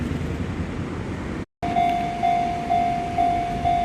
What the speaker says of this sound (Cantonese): 校前火車嚟緊啦，到埗啦